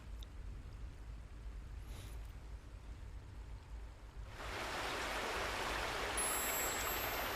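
A video game waterfall in a gothic action game swells in partway through as a broad, rushing hiss of falling water that stays loud and steady after a quiet opening.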